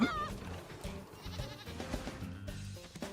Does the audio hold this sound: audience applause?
no